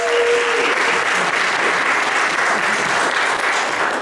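Sustained applause from a festival audience at a film festival speaker event, steady and full throughout with no voices rising above the clapping.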